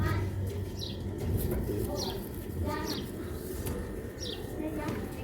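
Rooftop pigeons kept by a breeder coo in soft repeated calls, with a few chirps, over a constant background murmur; the cooing is fairly close and rises and falls in a loose rhythm.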